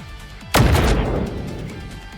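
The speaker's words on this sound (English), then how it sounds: "An T matter bomb. Pow." A single heavy bomb blast from the Goddess of Victory: Nikke video game, a sudden loud boom followed by a long rumbling decay.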